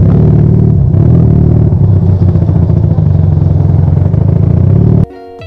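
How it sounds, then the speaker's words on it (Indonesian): A Honda CB200 two-cylinder motorcycle engine idles loud and close, a steady throbbing rumble that holds evenly for about five seconds before cutting off abruptly. "Mau tahu suara nih motor?"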